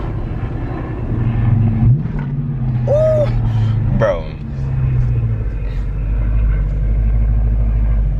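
Dodge Charger R/T with a mid-muffler delete rumbles steadily from inside the car, with a brief rise in engine note partway through; voices talk over the exhaust drone.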